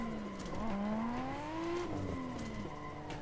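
A Nissan Skyline in a racing video game drifts with a droning engine whose pitch rises and falls, and tires squeal faintly. Steady and continuous with no talk, but quiet overall.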